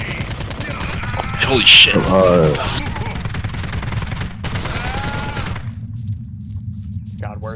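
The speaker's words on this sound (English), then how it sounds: "I'm getting shot up" Gunfire in the video game Postal crackles in dense, continuous bursts of rapid shots, loud and steady throughout, with an excited voice speaking over the shooting.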